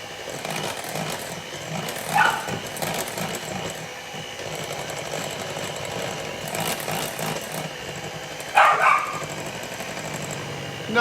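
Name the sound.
dog barking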